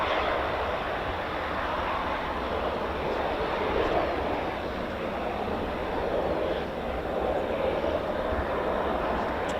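Aircraft taxiing at RAF College Cranwell produce a steady, loud engine roar and broad whine that holds constant throughout, with no voices.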